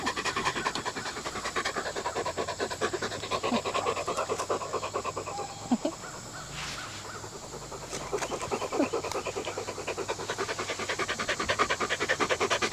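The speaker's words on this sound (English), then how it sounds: "You get to hear the panting of Levi and watch the playing of... Kinsley" A dog named Levi panting rapidly and steadily up close in a home, with a continuous rhythmic huffing that pauses briefly midway; no talk.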